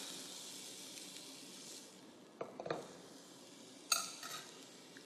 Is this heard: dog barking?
no